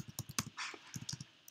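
Someone types code on a computer keyboard with quick, close, crisp keystroke clicks in short uneven bursts, quiet in an otherwise still room.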